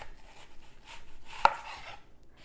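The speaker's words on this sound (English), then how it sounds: "we're going to slice the onion" A knife cuts through a Vidalia onion on a board with one sharp, close chop standing out amid soft rustling and handling noise; no one speaks.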